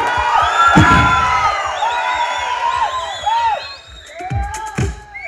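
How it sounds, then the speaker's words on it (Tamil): Fans at a Tamil movie audio launch event cheer, whistle and shout together, a loud, sustained crowd roar with sharp whistles rising over it and a few bursts swelling near the end. "இந்த கைத்தட்டி விசில் அடிக்கிற ரசிகர்களுக்கு"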